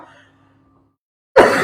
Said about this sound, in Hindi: यार, ये खांसी ने ना